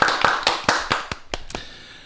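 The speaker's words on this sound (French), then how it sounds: "On applaudit" A few people at a quiz game applaud with a short burst of about eight distinct, crisp claps, close and fairly loud at first, then slowing and fading into quiet.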